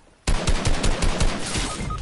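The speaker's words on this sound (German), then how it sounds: "Ich muss nur schauen, wo der Schuss herkommt." Rapid bursts of gunfire in the online shooter Fortnite, a loud, dense volley of repeated shots starting abruptly and continuing steadily for about two seconds with no talking.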